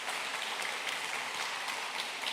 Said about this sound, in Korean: 우리 감사한 마음으로 다시 한번 큰 감사의 박수 해주시면 고맙겠습니다